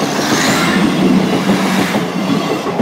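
A Class 158 diesel passenger unit, number 158 813, on a Worksop to Nottingham service rumbles loudly and close past Sutton Forest level crossing in Nottinghamshire, with steady wheel clatter and engine drone throughout.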